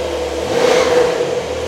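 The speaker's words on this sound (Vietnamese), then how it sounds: "Chắc là mình nên nổ thử cái động cơ xe nhé." A Porsche 911 with a 385-horsepower engine runs close by, a steady mid-pitched engine drone that swells into a rev and eases back down over a couple of seconds, with no talking.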